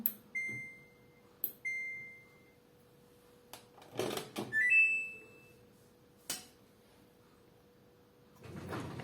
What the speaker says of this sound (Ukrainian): Поки хороша погода, запущу пральну машину.